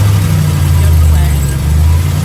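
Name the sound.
truck engine revving then idling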